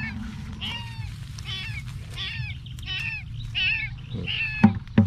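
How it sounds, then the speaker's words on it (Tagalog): A cat meows repeatedly outdoors, a string of about seven plaintive, rising-and-falling cries at a moderate distance over low rustling and background noise, ending with a couple of knocks. "Ingay ang pusa."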